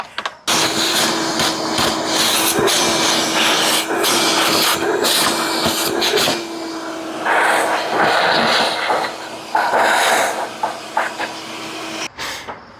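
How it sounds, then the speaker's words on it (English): A vacuum cleaner running close by, a loud, steady rushing hiss with occasional bumps and knocks as the nozzle moves, starting and stopping abruptly. "Figure I'll vacuum it out while I'm at it because it's pretty nasty in there."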